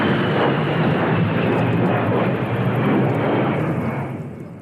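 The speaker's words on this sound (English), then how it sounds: "The A-10 Warthog is a loud jet fighter plane." A-10 Warthog jet plane flying overhead, a loud, steady broadband roar that holds for about four seconds before fading slightly at the end, with no voices.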